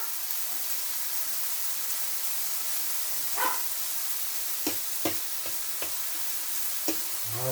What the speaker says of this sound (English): So you just really want to cook it until it isn't pink or red anymore.